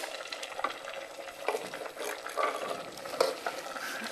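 Bavarian cabbage stew stirred in a pan, soft sizzling beneath repeated scraping and clinking strokes at an irregular rhythm, close but fairly quiet.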